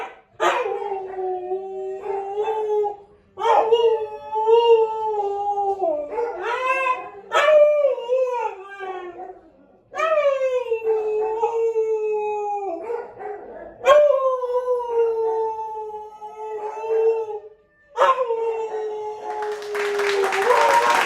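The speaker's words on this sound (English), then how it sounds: "some shelter dog cuteness and a little ditty called "Somebody Please Adopt Me" by one of my shelter friends" A shelter dog howls a drawn-out song, voicing about six long, wavering howls with yips between them, loud and close, with brief pauses between phrases.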